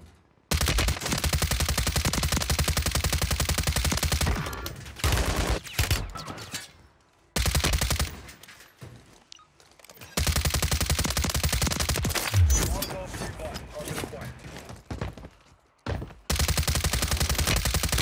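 Rapid bursts of automatic gunfire from the Call of Duty Warzone battle royale, with akimbo weapons firing loud sustained volleys broken by short pauses, heavy close shooting dominating throughout.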